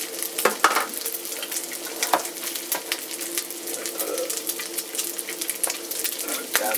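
Bacon frying in a cast iron pan, a steady sizzle and crackle with scattered sharp pops and occasional clinks of cookware, close and fairly constant with no talking.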